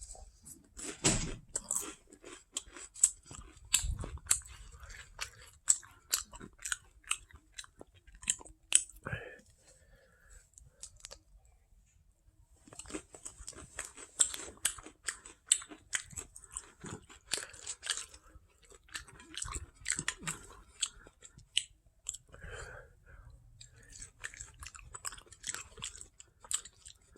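A person eats dinner, with close crunchy chewing and biting in repeated bursts and short pauses between them, with faint voices now and then.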